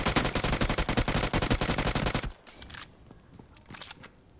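Rapid automatic gunfire in PUBG rattles loud and dense for about two seconds, then gives way to fainter, scattered distant shots.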